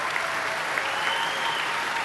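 An audience applauds steadily for a couple celebrating 55 years of marriage, a dense even wash of clapping from the crowd throughout, fairly loud and without a break.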